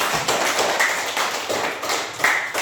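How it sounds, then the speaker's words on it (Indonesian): Students in a classroom clap briefly for a classmate at the end of a lesson, a scattered, uneven patter of hand claps with a few sharper slaps, close and fairly loud, with no talking. "Tepuk tangan untuk Messi."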